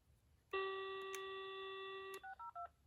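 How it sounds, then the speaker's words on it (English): Handset of an AT&T phone lifted, giving a steady loud dial tone for about a second and a half, then three short dialing tones as extension 602 is keyed on a Panasonic mini PBX setup. "I'm going to pick up the AT&T phone"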